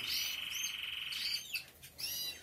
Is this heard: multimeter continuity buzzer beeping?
no